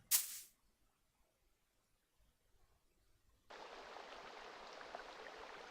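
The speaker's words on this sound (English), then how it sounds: "It sounds more like a river than a light rain" An Unreal Engine light rain sound effect: a steady hiss of water begins after a brief sharp click and near silence, a soft continuous wash like light rain or running water.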